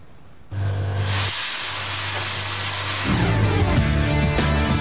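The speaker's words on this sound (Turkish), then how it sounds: "fuarın en ilginç ürünü ise hırsızlara karşı yapılmış olan buharlı alarm sistemi" A steam anti-theft alarm bursts on abruptly with a strong, steady hiss and keeps blasting, with a low hum underneath and a rougher rushing tone near the end.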